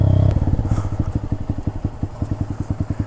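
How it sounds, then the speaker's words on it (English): A Honda Grom 125cc motorcycle putters along up close on a desert trail in Canyonlands, its single-cylinder engine firing in a quick, steady chain of pulses. "It's a Honda Grom. It's a little 125."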